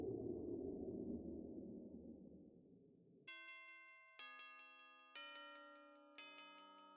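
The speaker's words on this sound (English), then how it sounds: "Why that sound like a school bell?" After a dense rumbling wash fades, a school-bell chime in Five Nights at Freddy's rings four clear tones in sequence, each struck note ringing out and decaying.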